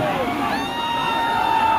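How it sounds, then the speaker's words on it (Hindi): Crowd noise from a packed, overcrowded stage at a political nomination rally in India, a steady continuous murmur of many voices with scattered shouts, with no gaps. "मंच पर बहुत ज्यादा भीड़ हो गया है।"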